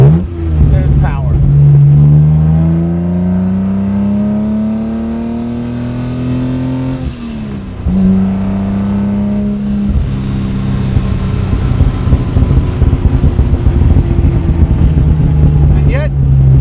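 A 1956 Jaguar XKSS recreation built by Lynx accelerates hard, its engine note loud and close. The tone climbs steadily, drops sharply at a gear change, then climbs again.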